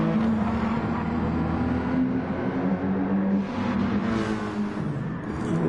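Race cars roaring around Daytona in a racing video game, a dense, continuous engine drone with steady pitched harmonics and slight swells as cars jostle, loud and unbroken throughout.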